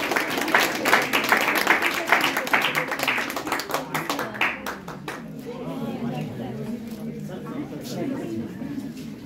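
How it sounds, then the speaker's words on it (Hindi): Loud audience clapping at a student award ceremony for bank exam selections, dense and rhythmic in the first half, then fading into a softer spatter of claps under voices. "एक बार जोरदार तालियों से स्वागत कीजिए सर।"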